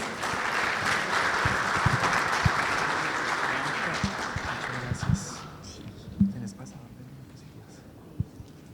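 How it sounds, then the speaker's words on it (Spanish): Steady applause from a sizable conference audience welcoming a speaker fills the first five seconds, then fades to scattered claps and room noise. "Recibamos con un fuerte aplauso"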